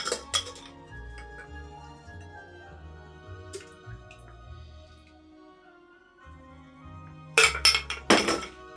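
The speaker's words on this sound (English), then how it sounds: "just fill up your glass with ice and strain the cocktail on top of it" Ice cubes clinking and rattling against a glass as a Godfather cocktail of Scotch and Amaretto is strained over them, with bright clatters at the start and a louder burst of clinks near the end.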